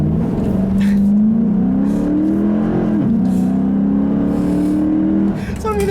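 A 2012 Dodge Charger R/T with its V8 engine accelerating hard off the line with some wheel spin, a loud, steady, rising engine roar heard from inside the car with a voice briefly over it.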